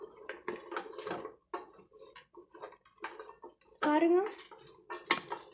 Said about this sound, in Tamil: சேர்த்து நல்லா கிளறி விட்டுருங்க.